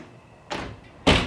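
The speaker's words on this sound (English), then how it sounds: "So we can close this door off" A bathroom door in a resort villa room at Kidani Village swings shut, giving a soft whoosh followed by a louder close thud, near and alone.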